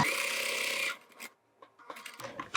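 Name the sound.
sewing machine stitching fabric pocket parts together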